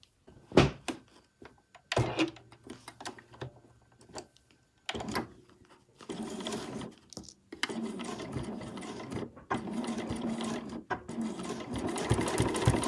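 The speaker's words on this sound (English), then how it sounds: "I'm just going to sew down here, along here and up here to secure that pocket in place." A sewing machine whirs in several runs of rapid stitching on an overlocker cover, securing a pocket in place, separated by pauses and clicks of handling, close by with no talking.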